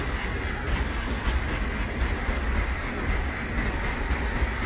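An Indian express train in the MSTS train simulator rolls into a junction platform with a steady low rumble of wheels and carriages, continuous and fairly loud, with faint rail clatter and no voices.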